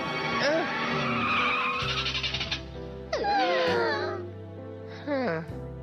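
A cartoon car skids and its tires squeal as it brakes to a stop, with sliding, warbling screeches over a low engine hum, amid animated sound effects and tones.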